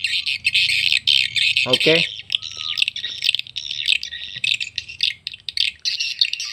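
Swiftlet calls played from a sound player chirp and twitter densely and continuously, loud and close, while someone speaks briefly partway through.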